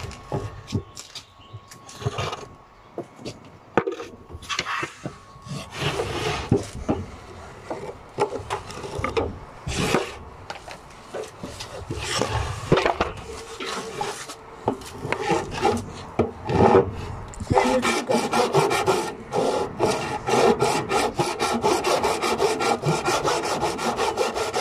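Wood being sanded by hand with sandpaper on a boat build: repeated rough scraping strokes, close and uneven at first, then settling into a faster steady back-and-forth rhythm.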